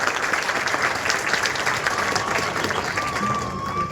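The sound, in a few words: audience applause at a milk day program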